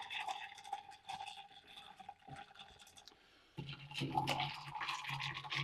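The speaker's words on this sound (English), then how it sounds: "So we're gonna stir this up." A kalimotxo drink with lemon juice being stirred, giving soft scraping, swishing liquid sounds close up, quiet at first and busier after a brief pause; a faint voice is present.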